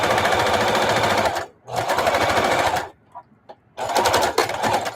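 Sewing machine stitching scraps of old denim jeans, close and loud, running in three fast bursts separated by short pauses, with a light clunk in the gap.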